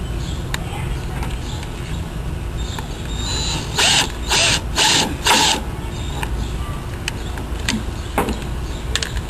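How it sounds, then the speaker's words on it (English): A cordless drill with a Phillips head bit drives self-threading metal screws, giving a few short close whirring bursts in a row amid quiet handling noise. "I'm going to use my cordless drill"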